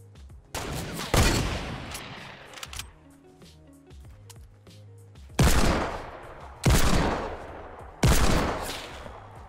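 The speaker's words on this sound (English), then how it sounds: "Hit him with the Tommy gun a lot." Tommy gun fire in the Fortnite battle royale game, several loud sharp bursts with decaying tails, spaced a few seconds apart, over a quieter game background without talk.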